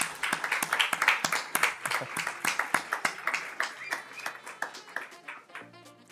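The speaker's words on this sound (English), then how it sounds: "Let's make a big round of applause for our high school students." An audience claps for high school students at a racing event, a moderately faint, uneven patter of individual hand claps that gradually thins out, with a voice briefly heard near the end.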